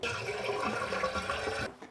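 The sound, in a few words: water running in toilet tank from leaking flush valve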